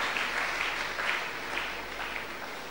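A church congregation claps hands together in a dense, sustained wash of applause that stays even and fairly distant throughout, with no clear voices over it.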